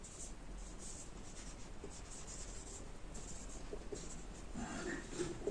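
Marker or chalk scratches across a board in short strokes while writing about the synthesis of malachite green dye, close and quiet, with brief rhythmic scribbles throughout.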